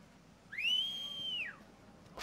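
A single clear whistle in Final Fantasy XV, a short sustained high tone sliding up, holding for about a second, then falling away over quiet game ambience.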